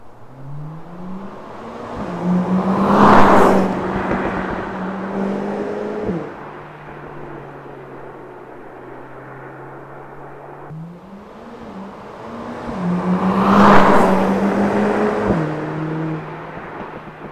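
A Mercedes-AMG CLA45 S engine revs up twice, heard from outside the car, each rev rising to a throaty roar with a rumbling exhaust before dropping back to a steady idle.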